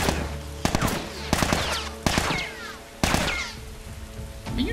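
Gunfire in The Last of Us, several sharp loud shot bursts in quick succession with brief gaps, set against a rain-like background hiss.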